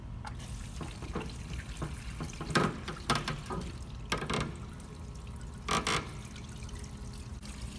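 Tap water runs for washing a BMW E46 differential in a garage, a steady faint flow with a few louder splashes and clatters; no talking.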